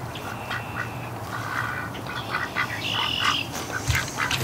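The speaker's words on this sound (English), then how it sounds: "You're a busy duck, aren't you?" A duck quacks repeatedly near a tub where ducks and geese are kept, its raspy calls coming in bursts over steady outdoor background noise, with no talking.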